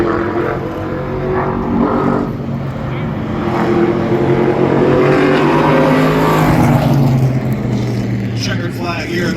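An ARCA Menards Series race car runs pole qualifying at Berlin Raceway. Its engine drones loudly and continuously, rising and falling in pitch as it laps, while a commentator talks over it throughout.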